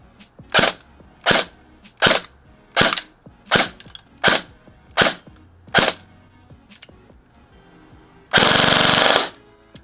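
Bursts from an ECHO1 BTS MOD-3 airsoft electric rifle firing: about eight sharp, evenly spaced single shots, loud and close, followed by a brief full-auto burst near the end, with no talking.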